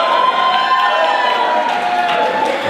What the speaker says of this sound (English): What a fired up crowd.